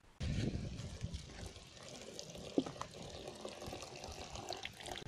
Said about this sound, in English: the hot water tap, and we see the water which comes here